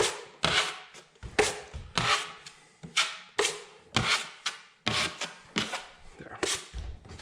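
A knife scrapes excess drywall compound off a sheetrock wall in a dozen rough, rasping strokes, each a sharp close swipe with short pauses between, steady and rhythmic, with no voices.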